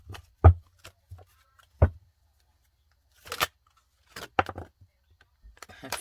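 Tarot cards are shuffled in a few short, crisp bursts of riffling and snapping, separated by quiet pauses.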